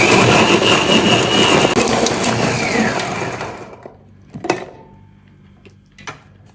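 An electric blender grinds onion, garlic and ginger with a loud, steady whirring roar for about three and a half seconds, then cuts off abruptly, leaving a few sharp clicks and knocks in the quiet that follows.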